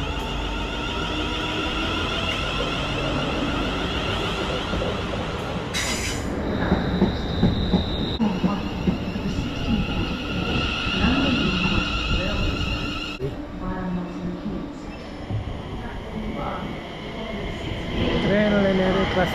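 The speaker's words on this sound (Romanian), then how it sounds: "Trenul NR clasa 350 de la Londra" A Class 350 electric passenger train passes through Northampton station, a steady loud rumble of wheels on rail with squealing and clattering throughout, under brief station announcements.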